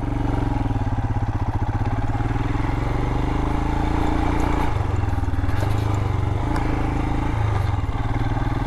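A Royal Enfield Himalayan motorcycle rumbles steadily through an off-road obstacle course, its engine note holding a continuous low drone with brief throttle changes and some clatter partway through.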